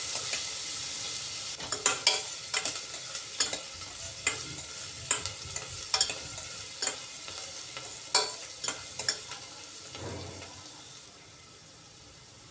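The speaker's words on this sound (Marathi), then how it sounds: "एक 2 मिनिट परतून घ्या जेणेकरून कांदा थोडासा लालसर व्हायला पाहिजे." Onion is sautéed in a pan for a cluster bean (gavar) curry, with a soft frying hiss under a spoon scraping and stirring in a regular rhythm that stops near the end, close and unaccompanied by speech.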